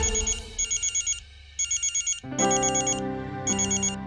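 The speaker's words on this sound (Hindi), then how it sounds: "उस दिन मुझे राहुल का फोन आया था।" A phone rings in repeated electronic bursts, loud and close, the tone pattern continuing in regular pulses with a brief pause between.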